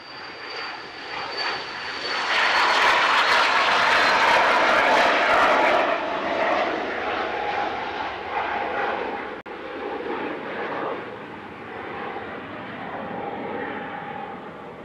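A KLM Cityhopper airliner takes off at Manchester Airport, its engines building to a loud sustained roar that peaks after a few seconds and then slowly fades as the plane climbs away.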